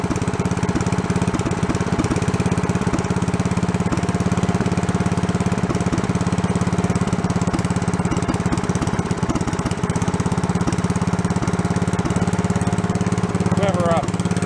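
Small engine on an old, long-abandoned log splitter running steadily at close range, a loud continuous chugging drone with a constant pulsing beat throughout.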